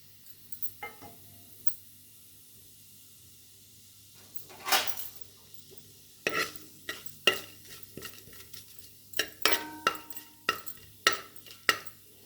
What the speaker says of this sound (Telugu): ఇప్పుడు ఈ whole garam items వేసేసుకుందామండి, garam masala items అన్నీ